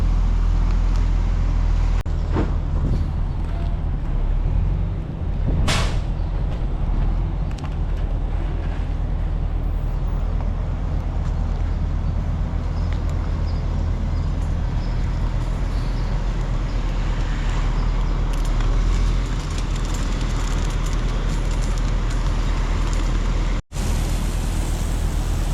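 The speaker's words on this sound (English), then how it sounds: "So the concrete truck just got here, so we're getting ready to get started." A concrete truck runs on a farm in the rain, its steady low engine rumble holding close and continuous throughout with no talking over it.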